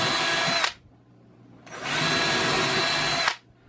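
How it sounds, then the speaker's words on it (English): Power drill pre-drilling pilot holes for screws while building a walk-in humidor, two sustained whirring bursts close by, each lasting about a second or more, separated by a short pause. "I need to pre-drill these"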